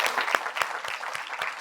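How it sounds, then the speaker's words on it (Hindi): Audience applause at a televised Hindi news interview, a moderately loud round of clapping with distinct individual claps standing out rhythmically within the dense patter, no speech over it. "इसके लिए एक ताली बज जानी चाहिए"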